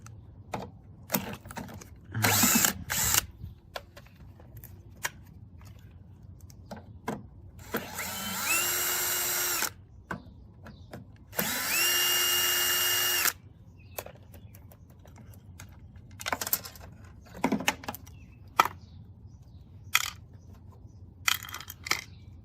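A power tool takes bolts off a cheap Craftsman lawnmower, running in two whirring bursts of about two seconds each, with scattered clicks, clanks and handling knocks of metal parts between them, and no one speaks.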